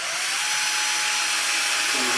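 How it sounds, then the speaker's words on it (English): A small drill spins a panel pin used as a drill bit into a wooden moulding board, giving a steady high whirring whine heard close for the whole moment. "we just treat the panel pin like an ordinary little drill bit"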